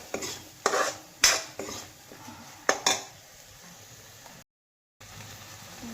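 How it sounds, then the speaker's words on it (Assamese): A spoon clanks and scrapes against a pan in a series of sharp strokes while spice masala with a little water fries with a faint sizzle underneath, then briefly cuts out. "এতিয়া এইখিনি মছলাখিনি ভালকৈ ভাজি লওঁ"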